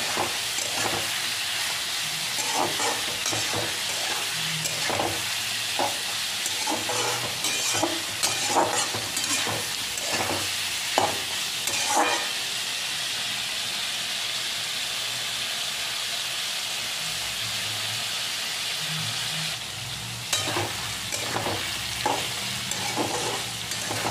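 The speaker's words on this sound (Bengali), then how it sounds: "পেঁয়াজের সঙ্গে এইভাবে 2-4 মিনিট নাড়াচাড়া করে ভালো করে আপনারা ভেজে নেবেন।" Chicken gizzards stir-fry with onions in a pan, a loud continuous sizzle broken by rhythmic spatula scrapes and knocks, briefly easing before the stirring resumes.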